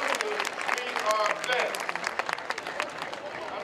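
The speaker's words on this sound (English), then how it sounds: "Give yourselves a round of applause, everybody that's in here" An audience at a Black History celebration event breaks into sustained applause, a dense wash of many hands clapping close and loud for the whole stretch, with voices mixed in.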